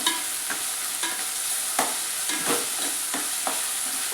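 Chicken stirred in a pan over a high gas flame, a continuous hot sizzle broken by repeated scraping strokes of the spoon every half second or so, close and fairly loud, with no talk.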